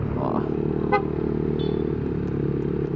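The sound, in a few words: Honda ADV160 scooter accelerating with 70 kg passenger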